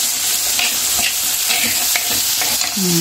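Onions sautéing in oil in a pan after okra has been fried, a steady loud sizzle with spatula stirring scrapes and clatter throughout, a brief tonal squeak near the end.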